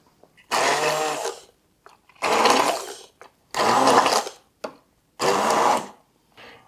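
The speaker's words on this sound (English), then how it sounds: "I'm just trying to make the puree out of this" A kitchen blender purees ingredients for a Persian pizza, running loud and close in four whirring bursts of about a second each with short pauses between them.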